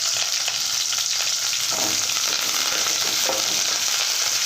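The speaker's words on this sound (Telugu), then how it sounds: "ఇది బాగా ఎర్రగా వేగనిద్దాం" Onion pieces and curry leaves fry in hot oil with a loud, steady hiss of sizzling, a few faint stirring scrapes underneath.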